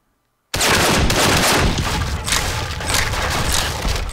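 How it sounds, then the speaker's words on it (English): Dense, continuous machine gun fire with booming blasts from the Xbox 360 game Breach, erupting after a moment of silence and sustained loudly for several seconds. "No more machine gun for you."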